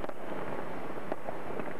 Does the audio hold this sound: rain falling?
no